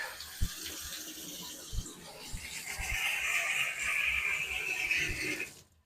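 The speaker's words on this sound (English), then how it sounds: "Turn the water off because water ain't free." Water running from a tap during aquarium maintenance in a fish room, a steady hiss of flowing water that swells midway and cuts off at the end, with faint knocks and handling sounds.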